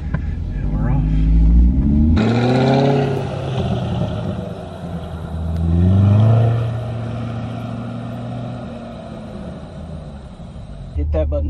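A 2020 Chevrolet C8 Corvette launching from 0 to 60 mph, its engine note a loud, close rumble that sweeps upward through rising revs and a gear change, with people talking over it.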